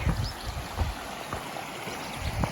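Steady broadband rush of flowing water, like a creek running nearby, with soft low gurgles and occasional bumps; no voices.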